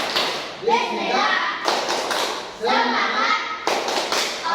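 A primary school class performs a patterned spirit clap together, with bursts of many hands tapping and clapping in short rhythmic groups alongside children's chanting voices, loud and close in a classroom.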